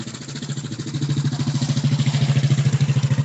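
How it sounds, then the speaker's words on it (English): A motorcycle engine comes through a video call from an open microphone, a steady pulsing idle with rhythmic clatter that builds slightly louder over the span, with no one talking over it. "The first thing I'm hearing is a motorcycle"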